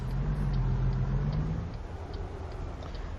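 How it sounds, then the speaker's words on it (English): Diesel rumble from a truck fitted with a Cummins engine, a steady low drone that holds loud for the first half, then eases slightly while continuing to run in the background. "truck sounds pretty manly behind me"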